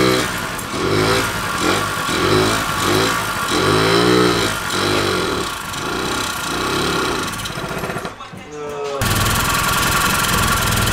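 Honda Elite 50cc two-stroke scooter, fitted with its stock airbox, idling and revving close by, the engine rising and falling in busy pulses with a brief dip near the end before running on.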